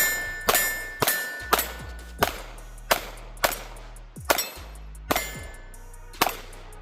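Sharp single gunshots from a compact S&W Bodyguard 2.0 .380 pistol fired outdoors, about ten evenly spaced cracks, each with a short ringing decay.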